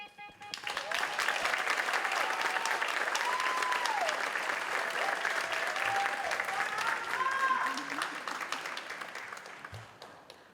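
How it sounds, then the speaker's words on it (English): An audience at a school district awards event gives a sustained round of applause for a finalist, a paraprofessional at a middle school, loud dense clapping that swells and fades, with a voice and a few whoops over it. "Another round of applause for Miss Alexander."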